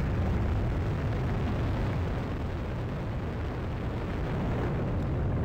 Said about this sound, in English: And the RD-180 engine roars to life.